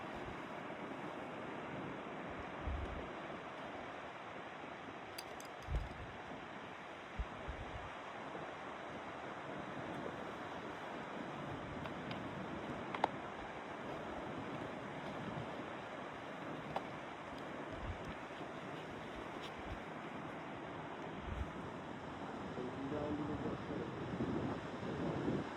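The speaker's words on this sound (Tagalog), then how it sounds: "tanging maririnig mo lang ay ang alon." Ocean surf rolls steadily onto a beach by a boulevard in Camarines Norte, a continuous wash of waves with occasional soft thumps and wind buffeting the microphone.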